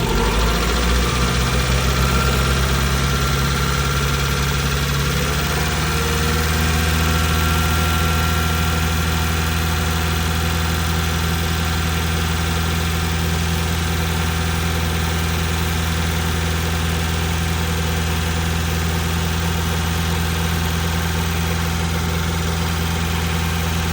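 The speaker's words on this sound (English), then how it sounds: "the fans are kicking in with the heater on" A 96 hatchback engine idles steadily up close with the heater on as the radiator fans kick in, a continuous low hum and whir that shifts slightly a few seconds in, then holds even throughout, no talk.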